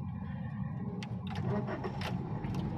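A manual transmission car's engine starts during a driving lesson, with a low steady rumble and rattly cranking bursts that settle into a closer, slightly louder idle over a few seconds.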